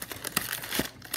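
Scissors cut open the top of a slime package, giving a brief close crinkling of plastic with a couple of sharper snips, no talking.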